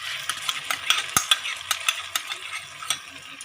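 Paneer paste being stirred into potatoes frying in a pan for a vegetarian aloo dum, with a spatula scraping and tapping in a steady run of close, crisp strokes over a soft sizzle.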